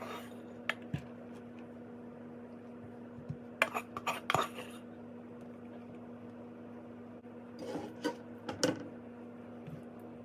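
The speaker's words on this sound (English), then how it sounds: "Let's give this a stir." Beef and broccoli are stirred in a pan, giving faint, sporadic clinks and scrapes of a utensil against metal over a steady low hum.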